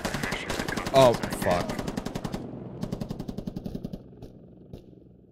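Sustained rapid machine gun fire in the military shooter game Squad, loud and dense at first, then a steady rhythmic burst of evenly spaced shots that trails off; a man briefly exclaims over the gunfire.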